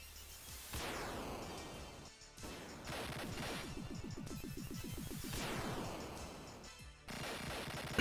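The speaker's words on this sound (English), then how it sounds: "And now he's shooting the missiles" Spriggan mark 2 shooter, an enemy firing missiles: a steady barrage of rapid crackling blasts and repeated whooshing launches, with a fast rhythmic pulsing run of shots at one point, loud and continuous with no voices.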